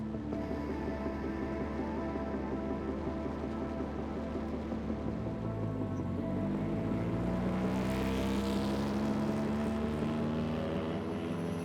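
A K24-engined Ferrari on a racetrack gives a steady, loud engine drone with rising and falling harmonic sweeps as it changes revs and gears, alone with no talk.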